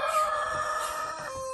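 A rooster crows once, a drawn-out cock-a-doodle-doo at moderate distance, clear and tonal with no talking.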